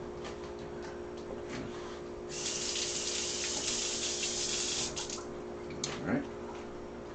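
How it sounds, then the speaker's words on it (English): Tap water runs in a steady rush for a few seconds as pork is rinsed in a kitchen sink, quieter clinks before and after, with a person speaking faintly. "We'll give it another little rinse."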